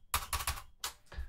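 Locked-up keys being freed on a Hermes Baby / Empire Aristocrat typewriter; a few sharp, close mechanical clacks in quick bursts, with short gaps between them.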